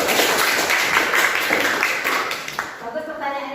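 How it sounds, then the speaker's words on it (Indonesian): Schoolchildren in an Indonesian classroom clap their hands together, a burst of loud clapping that tapers off after about two and a half seconds as talk resumes. "Tepuk tangan dulu."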